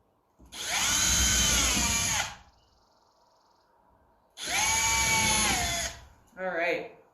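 Power drill boring into a wooden piece for a DIY step stool: two long, loud whining bursts of roughly two seconds each, separated by a quiet gap, then a short final spin-up burst.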